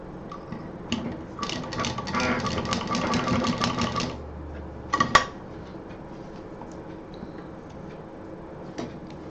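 Sewing machine stitching fabric for a DIY bag, a fast rattling run of needle strokes for a few seconds, then a short burst, with light clicks and handling noises around it.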